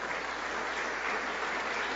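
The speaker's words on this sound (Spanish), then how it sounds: "Un aplauso para esta bendita mujer." Steady, dense applause from a crowd at a formal legislative assembly session, continuous clapping throughout with no voices standing out.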